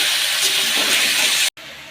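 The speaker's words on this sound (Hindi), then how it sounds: "चलिए आलू हमारे फ्राई हो चुके हैं" Potatoes sizzle steadily in hot oil for a brinjal-potato curry, a loud continuous broadband hiss and crackle, cut by a brief silent gap near the end before the frying resumes.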